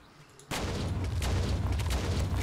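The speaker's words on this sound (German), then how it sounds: "Am besten mit Shotguns, so richtig brutal." Shotgun fire in the survival game 7 Days to Die: a sudden loud blast opens a dense, sustained roar of gunfire and booming impacts that holds at full strength.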